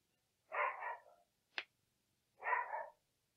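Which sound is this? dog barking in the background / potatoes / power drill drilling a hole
dog barking in the background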